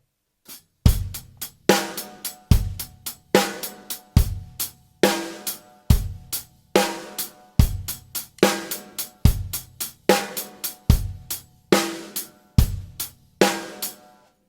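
Close, loud drum kit groove that moves between a triplet shuffle feel and straight eighth notes, with punchy kick and snare hits and bright cymbal strokes in a continuous pattern, no voices.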